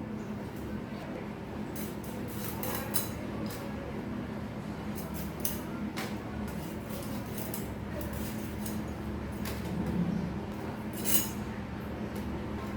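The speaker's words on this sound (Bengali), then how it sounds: "এখন আমি ইলিশ মাছটা কেটে নেব।" A knife works through a hilsa fish on a kitchen surface, giving scattered light clicks and taps against steady low background noise, with no talking.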